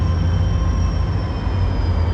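A CSX freight train pulls in near a station, heard as a steady, loud low rumble with a faint high whine above it, continuous with no talk.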